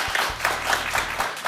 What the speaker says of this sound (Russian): Достойно аплодисментов.